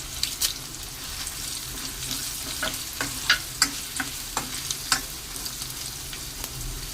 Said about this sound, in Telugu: ఇప్పుడు ఎండుమిర్చి వేసుకుందామండి